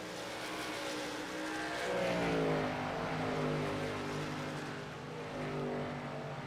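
Race cars at New Hampshire roar around the track, a loud continuous engine drone with rising and falling pitch as cars pass, swelling and easing without any talk.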